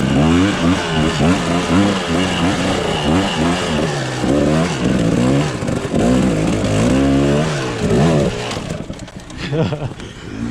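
A Kawasaki KDX 250 dirt bike ridden hard, its engine loud and close, revving up and down in repeated surges, with the throttle dropping away near the end.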